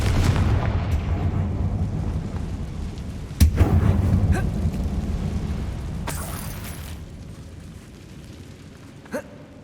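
A Confringo fire spell bursts with a sudden boom inside a dark mine in the game Hogwarts Legacy, a short explosive crack followed by a rumbling decay amid faint ambient game sounds.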